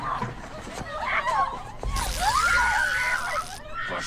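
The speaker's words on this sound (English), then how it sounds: "Come on, let me hear you scream." A person screams in a Daredevil episode, with a rising, strained cry swelling in the middle and holding loud for over a second, amid other voices and noise.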